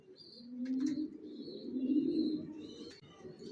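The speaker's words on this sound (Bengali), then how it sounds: "ভিউয়ার্স দেখতে পাচ্ছেন এখানে 1 জোড়া অ্যাডাল্ট কবুতর দেখাচ্ছি" A pair of adult racing pigeons coo softly and close by, two low, rolling coos rising and fading, with a few faint higher chirps in between.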